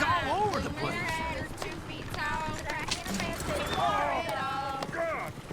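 Horse-drawn coach hooves clip-clop steadily in Red Dead Redemption 2, running under constant singing voices and chatter throughout.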